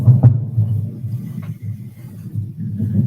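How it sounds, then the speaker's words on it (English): Low, rolling thunder outside during a rainy evening, a deep rumble that swells and fades with a sharper crack near the start, heard from indoors. "It's thundering outside."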